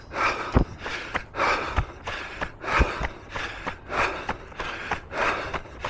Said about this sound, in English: breathing still sounds under control here